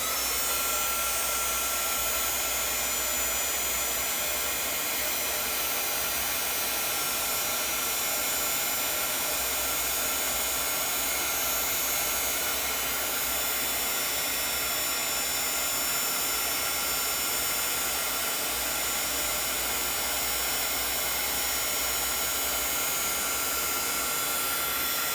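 Handheld heat tool blowing steadily to melt embossing powder for heat embossing, a continuous airy whoosh like a hair dryer running alone for the whole stretch at an even, moderate level.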